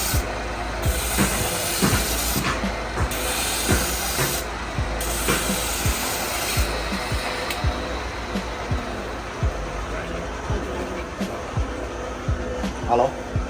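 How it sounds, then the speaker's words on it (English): Handmade candy fries in a Vietnamese candy workshop with a steady, broad hiss and sizzle that runs throughout, while people talk close by. "So we'll fry it."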